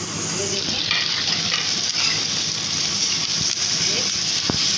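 Crushed garlic stirred into liver and gizzard frying in a pan, a steady close sizzle with scraping stirs throughout and someone talking over it.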